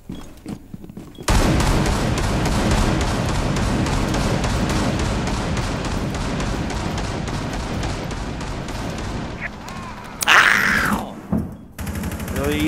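Sustained rapid gunfire in the video game Rainbow Six Siege rattles continuously for several seconds, dense and loud, followed by a brief burst of shouting and a sharp impact.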